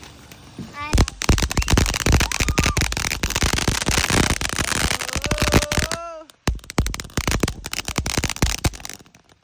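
Backyard fireworks set off by a group of friends: rapid crackling bangs and sharp pops in dense volleys with a few whistling rising shrieks, close and loud, a brief lull, then more bursts while people talk.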